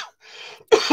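One short throat-clearing cough brought on by acid reflux, a soft rasp followed by a louder harsh burst, close to the microphone and alone.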